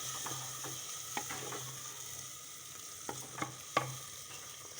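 Ginger garlic paste and masala frying in a pan for a white lobia curry, a soft steady sizzle with a few sharp scraping stirs of a spoon against the pan, close by and without talk.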